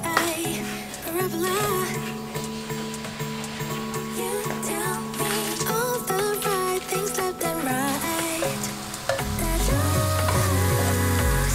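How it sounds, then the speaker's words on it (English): Soba noodle stir fry sizzles steadily in a pan, a continuous crackling hiss that runs through the whole stretch beneath loud, prominent music. "So I'm gonna try out this soba noodle stir fry recipe generated by"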